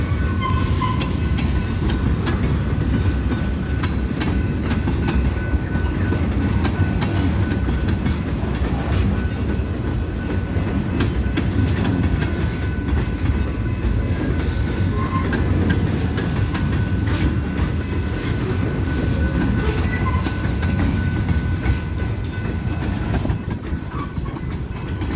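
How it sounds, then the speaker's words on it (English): Long BNSF freight train with hopper cars rolling past a rail yard, a continuous loud rumble of wheels and rhythmic clacking over rail joints, steady throughout with no talking. "So this is a long train."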